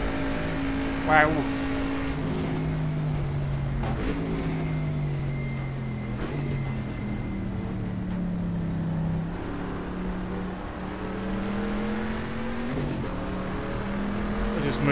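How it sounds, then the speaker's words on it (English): A Porsche 906 race car in the GTR2 racing game drives past a Jaguar E-Type at 1970s Sebring, with steady engine tones rising and falling throughout. A voice comments briefly over the engines. "we've got one of the Porsche 906 is going past the Jag E-Type"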